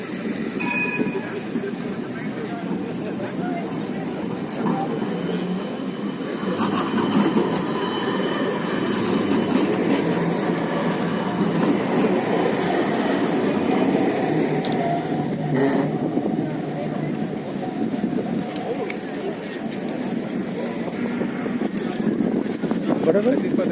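Tram rolling along an Amsterdam street, a rumbling rail passage with some wheel squeal building and fading over the span, set against street ambience and intermittent voices.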